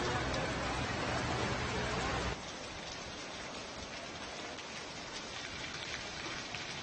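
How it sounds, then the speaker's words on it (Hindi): Steady rain falling after a hailstorm in Uttarakhand, a dense continuous hiss of drops that is slightly heavier at first, then settles to an even patter. "बारिश होती हुई नजर आई"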